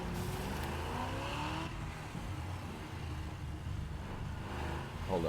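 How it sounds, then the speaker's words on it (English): An old Chevy Camaro driving in the video game Sleeping Dogs, its engine a steady, moderately loud rumble with shifting road and tire noise, no talking. "One of those old Camaros. Could be a Chevy."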